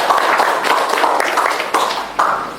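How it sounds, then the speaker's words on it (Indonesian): A classroom group applauds together, loud and close, with dense steady clapping for a couple of seconds and a few sharper bursts near the end. "Kita beri tepuk tangan untuk kita semua."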